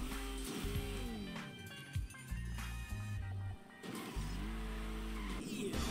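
Pegasi Toros car engine in Grand Theft Auto V Online, revving with rising and falling pitch through several gear changes, loud and continuous with brief dips, heard alone.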